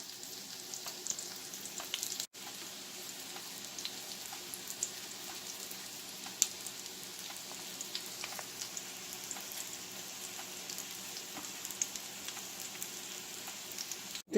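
Cod croquette cakes fry in a pan with a steady, dense sizzle and crackle of hot oil that runs unbroken from start to finish, with a brief gap near the start and no voices.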